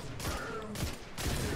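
Gunfire in the shooter game Destiny 2, with three heavy, booming shots spaced roughly half a second apart, loud and close, each ringing out briefly with a mechanical tail.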